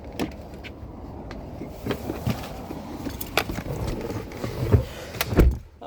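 Someone climbs into the cab of a 2019 GMC Canyon pickup truck: a series of close clicks, thumps and rustles from the door and seat, with a heavier knock near the end.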